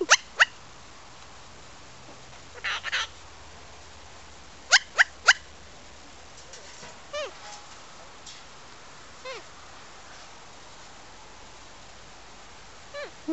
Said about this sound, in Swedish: Är du en farlig vovve?